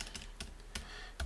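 Computer keyboard typing code: a few quick key clicks with short gaps, fairly close and clear, with no talking.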